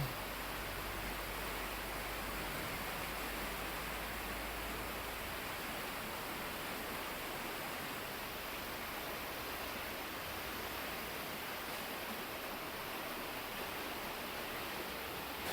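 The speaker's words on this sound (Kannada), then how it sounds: "ಇಲ್ಲಿ ಕೂತು ನದಿಯ ಹರಿವನ್ನು ವೀಕ್ಷಿಸೋದು ಅಥವಾ ಅದರ ಸದ್ದನ್ನು ಕೇಳೋದು ಕೂಡ ತುಂಬ ಮನಸ್ಸಿಗೆ ನೆಮ್ಮದಿಯನ್ನು ನೀಡುವಂಥದ್ದು" Steady broadband rush of a river flowing beneath an old bridge, a continuous even wash with no breaks and no voices, moderately quiet throughout.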